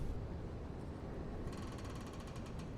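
Elevator box mechanism moving in the game Gloomwood: a steady low mechanical rumble joined midway by a rapid ratcheting, clicking rattle, faint and without speech.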